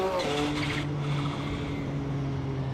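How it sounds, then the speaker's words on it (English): A turbocharged car racing in Assetto Corsa, its blow-off valve chattering and hissing as the engine note drops after a gear change, with a tonal engine drone continuing beneath, loud and close. "You're hearing the blow off just going crazy."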